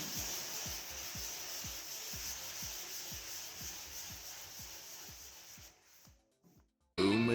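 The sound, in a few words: sanding Mustang roof paint with 400 grit sandpaper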